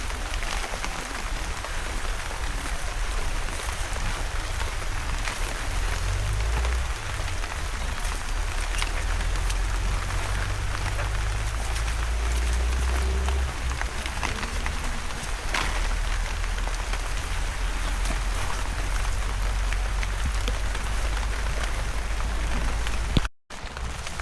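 Steady rain pours onto surfaces in a continuous, even hiss for the whole stretch, with a low rumble underneath and a brief dropout near the end. No one speaks.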